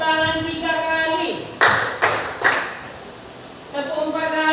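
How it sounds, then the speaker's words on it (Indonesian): A school class claps hands three times in unison during a lesson: three sharp, loud group claps evenly spaced, with a teacher talking before and after. "Tepuk tangan 3 kali."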